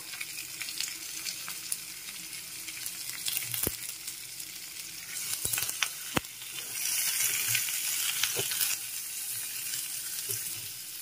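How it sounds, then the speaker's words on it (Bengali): Raw mango pieces for a chutney fry in a pan with turmeric powder. A continuous hissing sizzle runs throughout, with a few sharp clicks from stirring and a slightly louder frying burst near the end. Nobody speaks. "এখন একটু ভালো করে নেড়ে চেড়ে ভেজে নিয়েছি হলুদ গুঁড়োটা দিয়ে"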